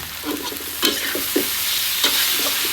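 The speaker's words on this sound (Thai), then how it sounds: "ผัดคลุกเคล้าให้เข้ากัน" Squid stir-fried in a hot pan with pepper, garlic, sugar, soy sauce and oyster sauce sizzles continuously while a utensil scrapes and tosses it in several quick, uneven strokes, close up with no talking.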